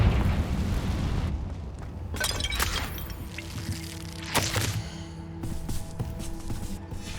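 A Confringo fire spell blasts in the Hogwarts Legacy video game, a loud boom with crackling bursts over game music and ambience, followed by further sharp pops and rumbles through the rest of the moment.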